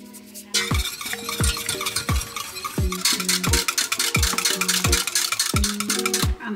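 A spoon stirs a thick gravy of flour and feta cheese in a pot on the stove, giving regular scraping knocks about every half second, close and clear over a low simmer, with no talking.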